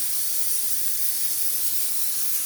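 Green chilies fry in a pan of hot oil for pickle, giving a steady, even hiss close up that holds without a break, with no voices.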